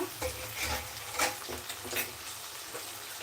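Washed rice and lentils toasting in a pot, a soft sizzle broken by scraping stirs and light clinks of a spoon against the pan, fairly quiet and close.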